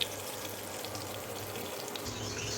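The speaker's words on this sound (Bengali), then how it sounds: "মাছ ভাজা হচ্ছে।" Fish frying in a wok with garlic and onion tempering, a continuous crackling sizzle close by, steady throughout with no voices.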